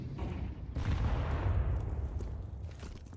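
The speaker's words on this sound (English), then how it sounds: "Nade lands on his toes." A frag grenade exploding in the competitive shooter Counter-Strike 2, one loud boom with a rumbling tail over match noise.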